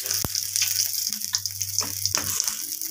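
Panch phoron spices and a bay leaf sizzle in hot oil, giving a steady close hiss with scattered small crackles and pops, with no one speaking.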